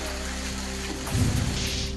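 Unseasonal stormy rain with hail lashing Baglan taluka makes a steady, dense hiss that swells slightly toward the end of this short stretch, with no voices.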